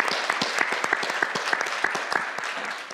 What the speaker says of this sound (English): Can we do a round of applause for our winners?